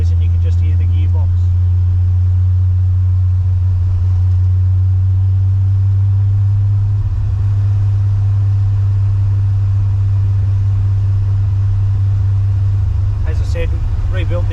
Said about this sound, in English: Get up to about 80 k's an hour and you outrun the engine noise and you can just hear the gearbox.